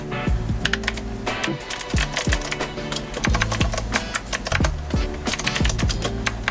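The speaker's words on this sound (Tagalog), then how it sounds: "Ito yung tunog ng keyboard guys." Rapid clacking keystrokes on a new mechanical keyboard, typed alone in a steady stream of sharp clicks with a few louder bottoming-out thumps, close to the microphone.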